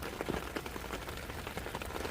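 Rain falls steadily with close, soft patters and drips on a nearby surface, a faint continuous shower with no voices.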